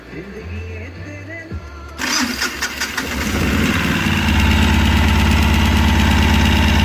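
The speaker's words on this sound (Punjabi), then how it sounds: "ਗੱਡੀ ਸਟਾਰਟ ਹੋ ਗਈ ਆ" A Mahindra Maxximo engine fresh from a head gasket replacement cranks and fires, then settles into a steady, loud, close idle with a constant low rumble and no talk over it.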